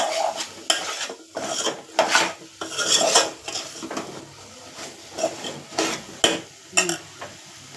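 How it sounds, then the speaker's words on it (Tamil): Vegetables sautéed in a pan before tamarind water goes in, heard as repeated close metallic scraping and rasping strokes of a spoon against the pan in an uneven rhythm, with little sizzle beneath. No one speaks. "இப்போ நம்ம போட்ட காய்களை ஒரு வதக்கி விட்டு புளி கரைச்சலை ஊற்ற வேண்டியது"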